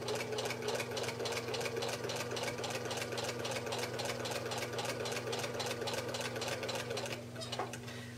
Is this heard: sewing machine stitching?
yes